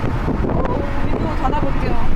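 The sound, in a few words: wind noise through open window of Actyon Hybrid at 80 km/h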